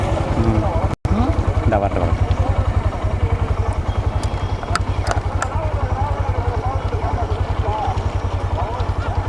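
A motorcycle engine idles with a steady, rapid putter close by at a bullock cart race, running throughout with a brief dropout near the start.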